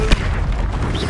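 An Incendio fire spell bursts in a Hogwarts video game, a loud close boom with a sharp thump at the start, then dense roaring noise holding through the short burst.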